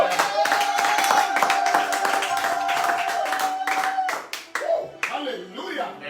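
Congregation clapping during a church service, a dense sustained burst of hand claps with a sung or spoken voice running over it before the applause thins and fades.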